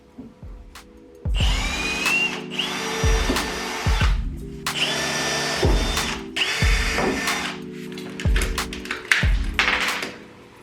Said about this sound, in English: So we'll run around here with a drill, making some holes.